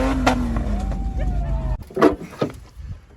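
A Jeep Grand Cherokee ZJ with the 4-liter AMC engine and 5-speed manual rumbles steadily up close, then cuts off abruptly partway through, leaving scattered clicks and knocks.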